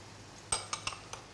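A utensil scrapes and clinks against a pan as flour is stirred into melted butter, four or five quick close taps in a quiet kitchen.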